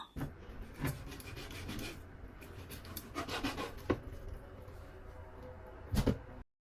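A knife slices boneless chicken breast lengthwise into strips, giving soft scraping and rubbing strokes against a board at close range, with a few sharper knocks near the start and end, and no talking.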